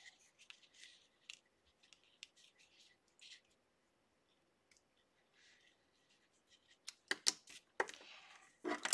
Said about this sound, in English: Cut it with my paper snips.